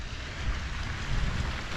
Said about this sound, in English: There's the fountains again.